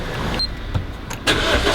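A Lotus sports car engine starts up and revs briefly close by, with a loud surge of engine noise as it prepares to pull away.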